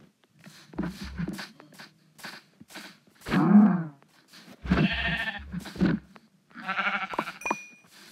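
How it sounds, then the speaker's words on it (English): Several short bleating sheep calls in a Minecraft-style survival game come in bursts with quiet gaps between them, mixed with soft footstep-like shuffling and faint voices. "Oh, sheep, sheep, sheep."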